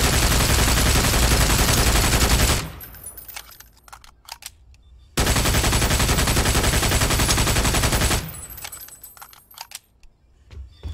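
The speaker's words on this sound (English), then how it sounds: "And then there's the basic assault rifle" The basic assault rifle in the video game Brink fires in two long sustained bursts of loud rapid gunfire, each followed by a scatter of lighter clinks and rattles as the shooting stops.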